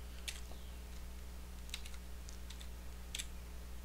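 Typing on a computer keyboard while entering text into a Gameblox program: a few sparse, light keystroke clicks in small bursts over a steady low electrical hum, with no talking.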